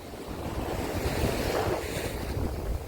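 Open water and gusting wind at Porbandar on the Gujarat coast make a steady, broad rushing wash that swells slightly midway and carries on without voices.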